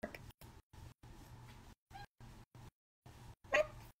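A house cat meows a few times close by, short gated bursts with one louder, higher cry near the end, heard over quiet background during a livestream.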